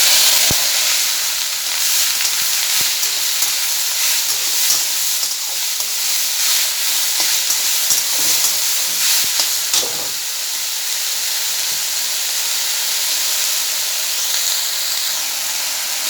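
Dheki shak greens fry with fenugreek in a pan, a loud steady hiss of sizzling oil and steam that stays close throughout, with a few soft knocks of a utensil early on and no talk.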